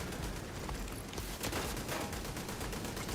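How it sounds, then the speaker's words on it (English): Automated turrets trade rapid bursts of gunfire in The Division 2, a dense, continuous fusillade of machine-gun-like shots that stays loud and busy throughout. "Look at these turrets shooting at each other"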